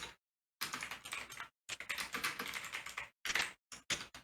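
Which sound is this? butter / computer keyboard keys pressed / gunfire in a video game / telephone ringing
computer keyboard keys pressed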